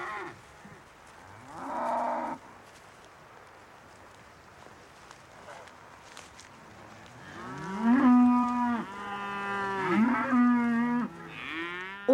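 Highland cattle on an open hillside moo, a short low call early on followed later by two long, loud, drawn-out bellows over faint outdoor background.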